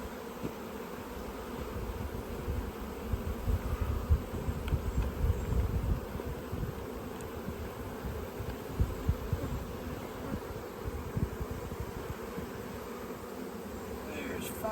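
Honey bees are shaken from frames into a hive box, giving a steady, dense buzzing hum that stays close and even throughout, with no clear talk over it.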